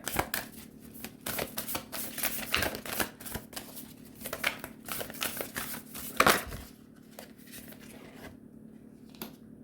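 Oracle cards being shuffled by hand, a quick run of soft, close riffling flutters and taps that fade to quiet near the end.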